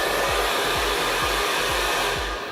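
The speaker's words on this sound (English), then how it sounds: "you switch the dryer on, switch it off, switch it on, turn up the power, you can use it" A salon hair dryer blows with a steady loud whoosh and a low pulsing motor hum, then its airflow starts to fade toward the end as it shuts itself off automatically.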